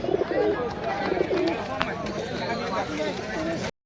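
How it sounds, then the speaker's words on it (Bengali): A pigeon at a rural market coos at another pigeon, with repeated low, throaty coos up close while people talk over them. "ছাড়ার সঙ্গে সঙ্গে অন্য পায়রাকে দেখে ডাক করছে"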